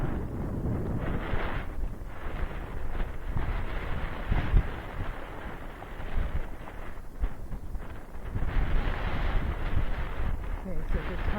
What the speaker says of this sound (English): the tarp's blowing on the right, a whole bunch of stuff is blowing up there